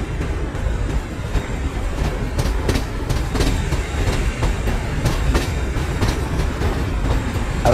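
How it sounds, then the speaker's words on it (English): An Alappuzha–Chennai Express train pulls into Chennai Central with a steady, loud rumble of railcars and a repeating clickety-clack of wheels over rail joints throughout, with no voices. "One more train towards Chennai Central Junction."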